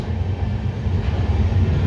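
A new sleeper coach built at MCF Raebareli, running on the Mahima Gosain Express between Sambalpur and Balasore, gives a steady, loud, low rolling rumble throughout with no pauses or voices.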